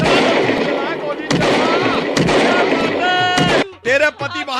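Gunshot sound effect: a dense, loud burst of crackling shots rattles for several seconds, with a voice speaking over it, then drops away into talk.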